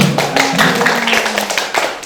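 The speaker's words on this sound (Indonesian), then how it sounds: "Tepuk tangan dong kalau betul." Audience clapping during a classroom quiz for a correct answer, a short burst of close, fairly loud claps with some uneven taps, mixed with a faint hum.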